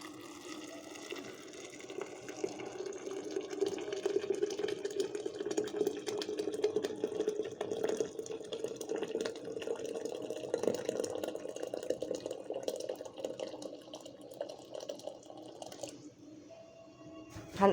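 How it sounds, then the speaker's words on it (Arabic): Hot water just boiled in a kettle poured into a pot holding crushed fava beans, onion, tomato and spices, a steady gushing splash that goes on for about sixteen seconds before tapering off, heard alone. "انا دلوقتي حطيت الميه السخنه"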